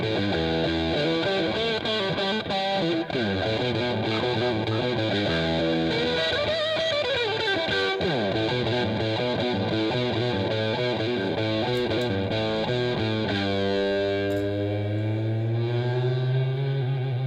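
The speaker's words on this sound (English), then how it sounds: "Crank up the distortion." Heavily distorted, fuzzy electric guitar and bass, thick and saturated throughout with a steady, loud wall of sound and a chorus-like, echoey shimmer, no voices over it.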